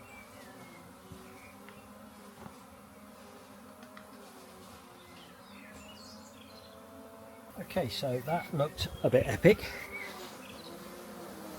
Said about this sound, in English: There's still loads of bees up there